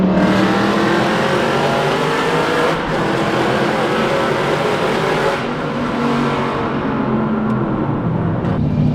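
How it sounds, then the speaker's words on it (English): A straight-piped Aston Martin Vantage roars at full volume on a Tokyo expressway, its engine revving hard and sustained throughout, loud and close with a raw, piercing exhaust note. "That is the angriest car to shoot in Tokyo. It is so loud."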